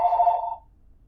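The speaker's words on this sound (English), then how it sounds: "I got my phone ringing." A telephone gives a single short electronic ring of about half a second, then falls silent.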